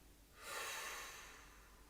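A single long exhale during a guided breathing exercise: after a quiet pause, a soft, airy breath out swells up and then fades slowly over about a second and a half, close and alone.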